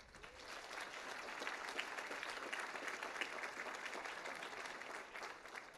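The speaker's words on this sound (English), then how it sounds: "So let's just give them a round of applause." A staff audience at an all-staff rally applauds pledge makers, with steady, dense clapping sustained throughout at moderate distance and no talk over it.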